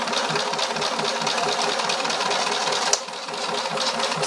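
Sewing machine stitching the lining of a pocket, a steady close mechanical whir running nonstop for several seconds, with one sharp click partway through before the motor carries on slightly quieter.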